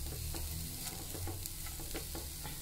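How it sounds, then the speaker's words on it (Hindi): Chicken stir-frying with cabbage, carrot and whole spring onions in a hot pan, a steady close sizzle broken by scrapes and stirring strokes of a utensil, with no voices. "चिकन भुनने बाद ये पत्ता गोभी, गाजर, ये पूरे स्प्रिंग ऑनियन, पूरे वेजिटेबल्स डाल देना।"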